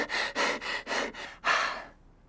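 Someone demonstrates rapid breathing: five quick, loud, forceful breaths in a steady rhythm, close up, then the sound stops abruptly into quiet.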